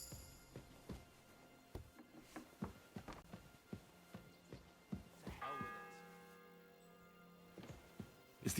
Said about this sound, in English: It's the 8th bell. I need to hurry.